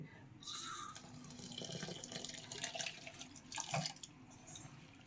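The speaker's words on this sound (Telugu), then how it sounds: "ఇందులో అయితే నేను కాస్త వాటర్ అయితే కలుపుతున్నానండి" Water runs and splashes steadily into a bowl for several seconds, a close, continuous pour with a brief louder gush near the end.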